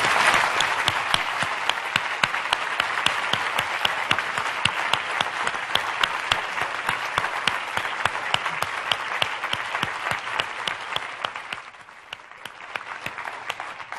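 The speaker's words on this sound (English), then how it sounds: "A big round of applause, please," A conference audience gives the panel a long, dense round of applause, many hands clapping steadily and loudly before thinning out near the end.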